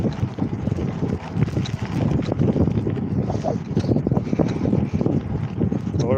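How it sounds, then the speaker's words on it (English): Steady wind buffets and rushes past a rider on a vintage bicycle heading into a headwind, a constant close roar with gusty rises and no pauses throughout. "the wind's definitely in my face"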